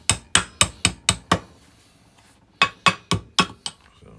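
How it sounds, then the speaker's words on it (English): A small brass hammer taps a Kurt 5-inch milling machine vise in a cold workshop: two quick bursts of sharp metallic knocks, about six evenly spaced ringing hits, a short pause, then five more, close and loud with no talking. "It's a brass hammer I'm using."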